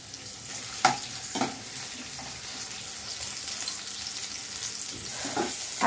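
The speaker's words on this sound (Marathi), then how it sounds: "आता कांदा माझा थोडा ब्राऊन होत आला आहे।" Onions sizzle and fry steadily in a pan while matki misal is being made, with occasional louder stirring scrapes over a constant crackling hiss.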